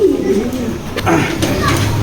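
Racing pigeons coo in a loft with soft, low repeated murmurs, close by, while a person talks over them and faint clicks and rustles sound in the background.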